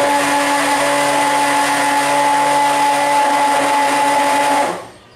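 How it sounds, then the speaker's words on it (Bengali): An electric mixing machine churns liquid hand wash with a steady, loud whirring drone and a constant motor hum, then winds down and stops near the end. "আমি যখন মেশিনটা চালাচ্ছি তখন দেখবেন এটা নিচ থেকে উপরে, মানে নিচেরটা উপরে উঠতেছে, উপরটা নিচে যাচ্ছে"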